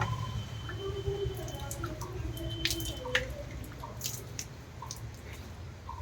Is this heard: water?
yes